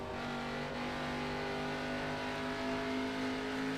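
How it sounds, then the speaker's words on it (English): ARCA stock car engine revving hard around Iowa Speedway in a racing game, a steady loud drone with the driver feathering the throttle, sustained and close throughout. "Trying to pepper that throttle as much as he can."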